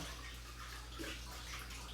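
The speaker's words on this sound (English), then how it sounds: "I'm gonna add some water, like a 1/4 inch or so in the bottom of the pan" Water runs steadily into a cooking pan for sausages, a soft continuous close pouring hiss over a low background hum, with no talking.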